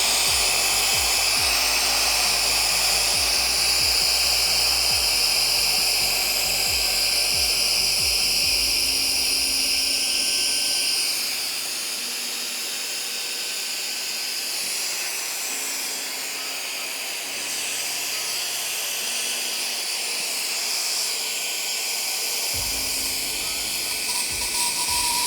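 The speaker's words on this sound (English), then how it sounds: "it blows up the mattresses very fast" A battery-powered Wolfbox portable air duster blows up an air mattress with a continuous loud, high whining hiss of rushing air that dips partway through, then steadies again. No one talks.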